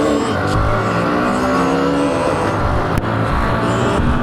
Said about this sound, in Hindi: लॉन्च करते हैं बाइक को।